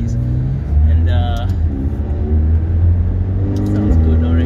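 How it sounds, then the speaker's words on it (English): Tuned 900hp McLaren 720S with aftermarket exhausts revving, a loud, steady low engine drone with rising rev blips, close by and continuous, with people talking over it. "As you can hear, this car's exhausts are definitely not stopped"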